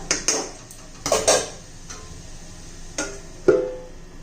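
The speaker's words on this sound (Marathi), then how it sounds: "झाकण ठेवते मी आता" A metal lid placed on a cooking pan while besan jhunka with capsicum cooks, several sharp clattering clinks and taps spread over a few seconds, close and fairly loud, with no talking.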